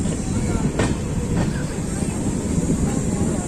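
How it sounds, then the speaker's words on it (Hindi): A Janshatabdi Express passenger train rolls along at low speed between Rewari and Delhi, a steady dense rumble heard from inside the coach with a few faint clanks. "लो जी धीरे कर ली ट्रेन को वापस, बहुत ज़्यादा ही धीरे कर ली।"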